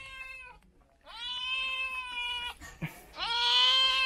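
A cat on a farm meows three times, drawn-out, close and loud calls separated by short pauses.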